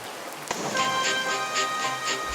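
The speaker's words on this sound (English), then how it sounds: "The rain became harder and harder." Heavy rain pouring down in a steady hiss, beginning with a sharp knock and continuing evenly at moderate loudness with faint tonal hum underneath, no voices.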